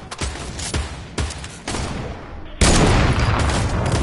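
Heavy sniper rifle shots in a video game, a few sharp, loud reports spaced about half a second apart, followed by a denser burst of gunfire, with no talk over them.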